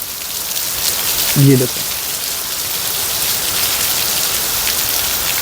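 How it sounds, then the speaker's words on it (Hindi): Heavy rain pours steadily outdoors at a mosque near the Taj Mahal, a dense, constant hiss close by, with someone speaking briefly over it. "अब यहाँ पर इतनी तेज़ बारिश हो रही है"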